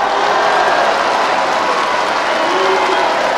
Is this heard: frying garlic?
no